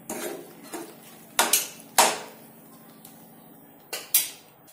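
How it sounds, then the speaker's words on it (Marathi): A spoon scrapes and knocks against a pan while pav bhaji is stirred, a handful of sharp metallic clacks spaced irregularly over quiet gaps, close and fairly loud. "त्याला छान मिक्स करून घेऊया."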